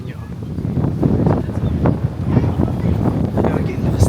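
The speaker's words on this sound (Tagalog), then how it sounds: "lakas na hangin" Strong wind buffets the microphone high up on a tall structure in Vietnam, a steady roaring rush with gusty surges, heard close and loud throughout.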